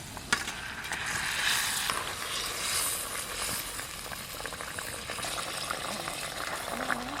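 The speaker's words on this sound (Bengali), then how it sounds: "ঝোল একদম টকবকে হয়ে ফুটে গেছে" Mustard fish curry bubbling in a pan, cooked village-style, with a steady close simmer and broadband bubbling through the whole stretch and faint background noises.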